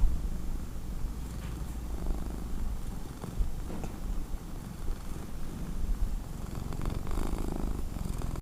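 A cat purrs close up in a steady rumbling rhythm, a continuous low vibrating drone with gentle rising and falling pulses throughout.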